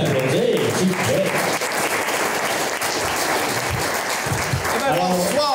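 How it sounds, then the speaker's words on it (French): An audience at a cultural launch event applauds an improv troupe with sustained, dense clapping that fills the room, while voices talk over it near the beginning and end. "On peut les applaudir, s'il vous plaît."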